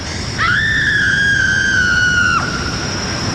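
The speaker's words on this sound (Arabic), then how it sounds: "في حد بيصرخ؟" A single sustained scream rings out, rising sharply, holding a steady high pitch for about two seconds, then cutting off abruptly over a low background hum; no speech.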